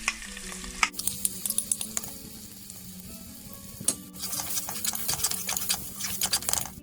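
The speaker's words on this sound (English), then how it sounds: "after 1 minute of frying this ginger garlic paste on the low flame" Ginger garlic paste sizzles and spatters in a hot pan over a low flame with a steady frying hiss, and a utensil stirs and scrapes now and then.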